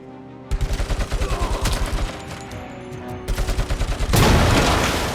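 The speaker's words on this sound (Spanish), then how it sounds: "Vamos a llevar la ametralladora, claro que sí." Rapid bursts of machine gun fire in the video game RoboCop: Rogue City, loud and close, several rhythmic volleys broken by short pauses, ending in a louder sustained blast.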